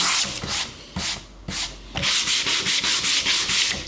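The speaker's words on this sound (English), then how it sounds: "if you're going to use your sanding block" A sanding block rubs briskly over a painted surface, distressing it, close up, in slow strokes at first and then faster, steady back-and-forth scrubbing.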